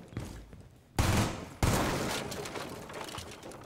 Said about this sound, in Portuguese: As pessoas estão atirando